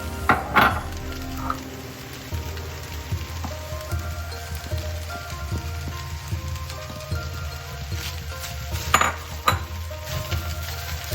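Peas, carrots and onions for Spam fried rice sizzle loudly in a pan while being stirred, with scraping utensil strokes and a few sharper clatters over a continuous frying hiss.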